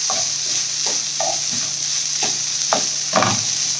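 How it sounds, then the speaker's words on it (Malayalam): Boiled jeerakasala rice is stirred in a pan for lemon rice, with a steady sizzle underneath and repeated soft scraping strokes of the spoon, close by and without talk. "ഇതിലേക്ക് നമ്മൾ ബോയിൽ ചെയ്ത് വെച്ചിരിക്കുന്ന ജീരകശാല റൈസ് ഇടുക. നന്നായിട്ട് മിക്സ് ചെയ്ത് കൊടുക്കുക."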